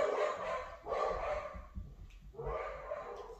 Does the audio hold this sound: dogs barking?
yes